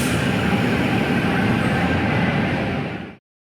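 A Sydney suburban train rumbles steadily and close at hand, its broadband running noise holding level for about three seconds before cutting off abruptly, with no voices.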